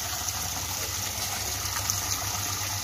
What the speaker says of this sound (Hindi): नहा रही है मेरे बेटिया टेप का पानी में